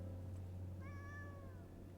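Cat in the video game Lies of P gives one short, clear meow partway through, set against a steady low background hum, with no talking.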